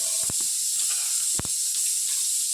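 Mustard seeds sizzle in hot cooking oil for a home-style bitter gourd and tomato rasam: a steady, close frying hiss with a few sharp pops as the seeds crackle.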